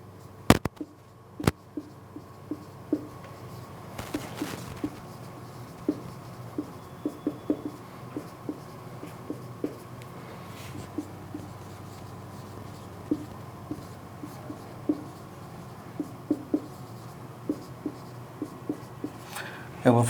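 Chalk tapping and scratching on a board as a teacher writes biology notes about stomata, a steady stream of short light clicks and strokes running under a voice explaining in Hindi.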